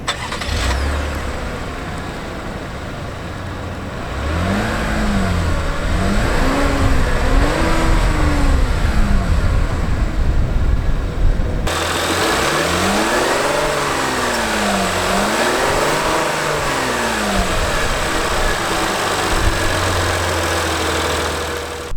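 A 2017 Cadillac XT5's 3.6-liter V6 with 310 horsepower cranks and catches, then revs in several rising and falling sweeps over a steady idle, loud and close, with no talking.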